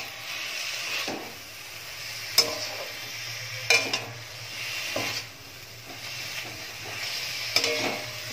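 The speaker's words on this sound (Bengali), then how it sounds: "এবার এই বেগুনটা শাকের সাথে একটু ভালো করে একটু মিশিয়ে নেব।" Fried eggplant is stirred into chickpea greens cooking in a pan, with soft scraping strokes and a low sizzle over a steady hum, plus a few sharp clinks of the utensil against the pan.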